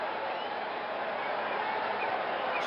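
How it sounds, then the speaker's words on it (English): A loud stadium crowd in APBA PC Baseball keeps up a steady, even wash of cheering noise with no breaks or peaks. "it's got a bit of a loud crowd, that's for sure"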